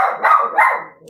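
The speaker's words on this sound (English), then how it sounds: "I apologize for the dog." A dog named Zoe barks indoors, two close, loud barks in quick succession, with no other sound.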